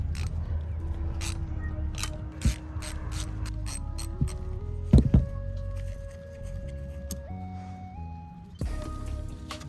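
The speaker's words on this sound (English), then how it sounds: "go ahead and grab your socket and ratchet tool. I wanna say these are 10mm bolts" Socket and ratchet backing out 10mm bolts on a Nissan 300ZX, giving close mechanical clicking and ratcheting with scattered sharp clacks over a steady low hum.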